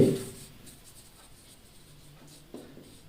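A pen scratches softly on paper as an accounting journal entry is written out by hand, close and quiet, with a small tap near the end.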